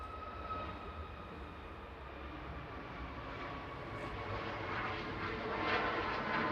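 A Ryanair jet bound for Tenerife departs Manchester Airport, its engines a broad, steady roar heard from a distance that swells slowly over several seconds, with no one talking.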